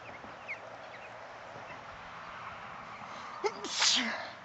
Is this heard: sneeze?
yes